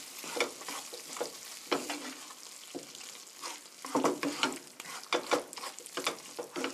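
Chicken curry stir-fry seasoned with ground black pepper sizzles in a pan as a utensil stirs and scrapes through it in quick, uneven bursts close by.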